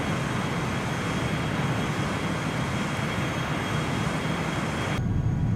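Challenger 300 business jet in flight in the X-Plane simulator, a steady broadband engine roar and airflow hiss, constant and close, cutting off sharply in the high end near the finish.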